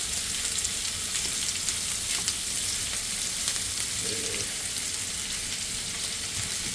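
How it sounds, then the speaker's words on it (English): Steady sizzling and crackling of sausages, onion and vegetables frying in a hot pan, a continuous bright hiss with no talking. "Everything frying together."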